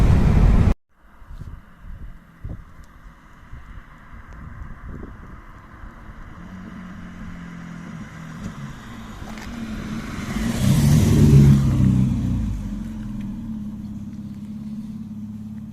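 A Ford XR3i convertible engine drones nearby, then swells as the car accelerates and passes with a rush of revving and road noise before settling back to a hum.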